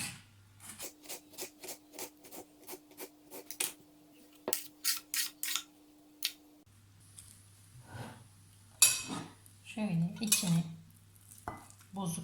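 A knife slicing through a medium tomato on a board in a home kitchen, preparing topping for Konya-style etli ekmek: a run of crisp, evenly spaced cutting taps up close, then irregular scraping and clinking of the blade and dishes.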